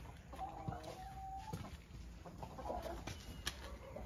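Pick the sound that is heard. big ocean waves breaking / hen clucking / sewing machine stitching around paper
hen clucking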